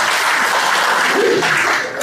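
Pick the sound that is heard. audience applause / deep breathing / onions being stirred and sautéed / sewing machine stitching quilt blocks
audience applause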